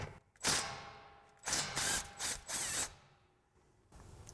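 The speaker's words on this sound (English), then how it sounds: "I'm going to take my 12mm with my 3/8 gun, and I'm going to loosen this bolt up here" A 3/8-inch impact gun spins a 12mm bolt loose on a Toyota Tundra brake assembly, giving several short loud whirring bursts separated by pauses, close up and without speech.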